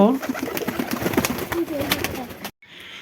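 Pakistani pigeons coo softly and repeatedly nearby, mixed with a voice speaking over them and a little background noise.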